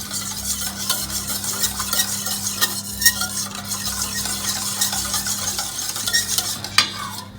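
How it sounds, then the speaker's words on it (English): Cake batter with oil added is whisked briskly in a bowl, giving rapid rhythmic scraping taps close by. A steady low hum runs underneath, and nobody speaks. "And whisk again."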